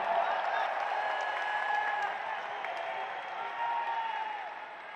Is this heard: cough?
no